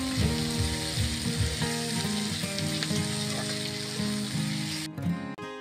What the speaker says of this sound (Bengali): এবার নেড়ে নিয়ে পেঁয়াজ লালচে করে ভেজে নেব।